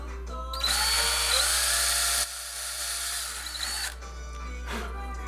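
Power drill boring holes for EVH Blackguard guitar machine heads, a loud steady whine that holds for about two seconds, drops in pitch as the bit bites, then runs on before stopping near the end.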